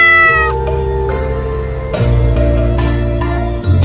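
A cat meowing loudly and close, in several drawn-out, tonal cries that rise and fall, with brief bright noisy bursts between them and no one talking.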